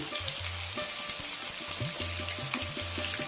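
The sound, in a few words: tandoori masala fish frying in oil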